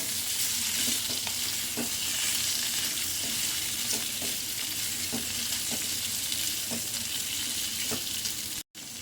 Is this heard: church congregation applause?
no